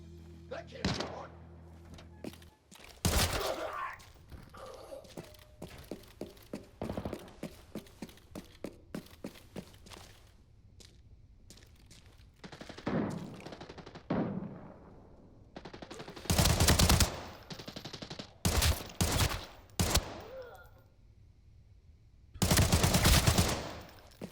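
Bursts of rapid gunfire in the video game Arena Breakout Infinite crackle amid thuds and scattered single shots, some close and loud, others quieter, with a voice talking at times.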